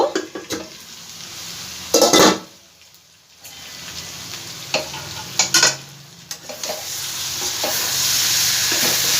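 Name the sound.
stirring and frying green jackfruit with spices in a pan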